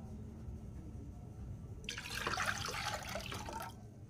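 Water pours into a pickling brine of cane vinegar for mangosteen, a steady splashing rush starting partway in and running about two seconds before tapering, close and moderately loud over a quiet kitchen background.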